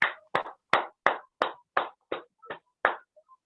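Scattered applause from a small audience welcoming a presenter onstage, with about nine separate clap bursts, each sharp and fairly close, spaced irregularly and fading slightly toward the end, with no talk over them.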